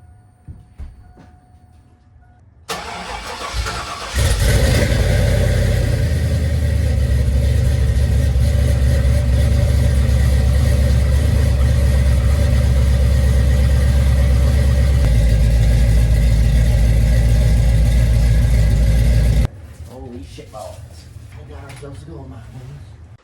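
A cold 2000 Chevrolet Silverado engine cranks and catches, then settles into a loud, steady idle for about fifteen seconds before cutting out.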